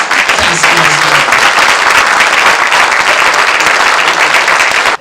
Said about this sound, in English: I want to take this opportunity right now to ask you kindly to clap loud for my volunteers